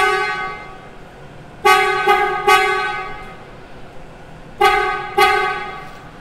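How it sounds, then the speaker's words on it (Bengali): A car horn sounds in two pairs of short, loud beeps, with quiet interior background between the presses. "হর্নটা ক্লিক করে দেখি কি অবস্থা।"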